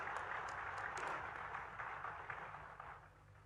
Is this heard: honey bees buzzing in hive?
no